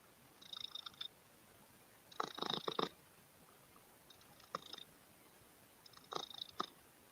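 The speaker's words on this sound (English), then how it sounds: "I don't know if you guys can hear my cat purring." A pet cat purrs from a lap, close and soft, in four rhythmic rumbling bursts separated by quiet pauses, with no talking.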